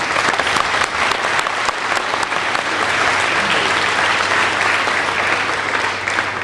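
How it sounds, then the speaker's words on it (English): Steady, dense applause from an audience at an employee celebration honoring faculty promotions, filling the room evenly for the whole stretch with no pauses. "Would you give them a round of applause?"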